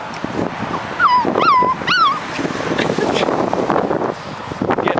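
A puppy on a road-trip rest stop gives a few whimpering yips and whines near the start, set against outdoor wind and rustling background noise.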